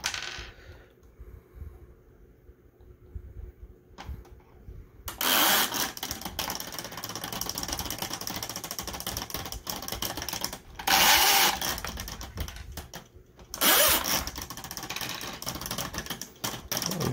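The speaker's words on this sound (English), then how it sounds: "It's making that terrible sound because it's running the chain over this bit of plastic right here." A Spintronics mechanical circuit toy with its chain grinding over a piece of plastic, producing a harsh continuous rattling whir that rises in loud bursts, close up, after a quieter opening stretch.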